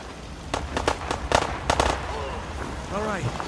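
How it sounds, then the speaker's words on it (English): Fallout 4 video game gunfire crackles as a rapid burst of sharp, fairly close shots, followed by scattered pops and whooshing effects. "Now, who's shooting at who now?"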